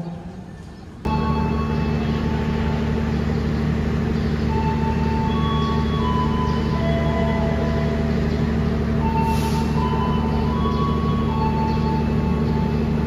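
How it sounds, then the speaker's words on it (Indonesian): Taksaka passenger train departing Purwokerto station, a steady loud engine drone with low rumble holding throughout after an abrupt start, a few faint tonal squeals and clanks on top. "Kita akan melihat detik-detik kereta Taksaka diberangkatkan dari stasiun Purwokerto"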